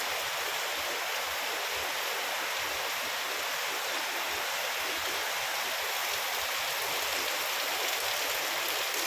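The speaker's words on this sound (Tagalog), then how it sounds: "ayan, ang lakas ng ulan" Heavy rain pours down steadily, a dense, continuous hiss of water striking surfaces up close, with no pauses or voices.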